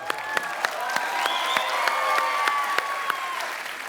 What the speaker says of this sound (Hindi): कमाल तालियां।